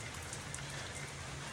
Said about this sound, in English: It's raining, it's windy, and it's freezing cold.